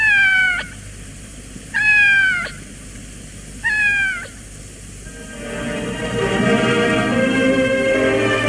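A cat in a French radio drama meows three times, each a drawn-out, wavering cry separated by pauses, fairly loud and close, followed by a swelling bed of music.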